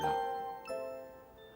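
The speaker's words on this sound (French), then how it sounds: "ils entendirent retentir la voix cristalline de la petite clochette qui entonnait son merveilleux chant de Noël" A small Christmas bell chimes with a clear, ringing tone, struck once and then again about halfway through, each strike leaving a long shimmering decay with no voices.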